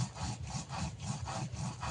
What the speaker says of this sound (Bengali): সর্ষে আর জিরে আমি একসঙ্গে বেটে নেব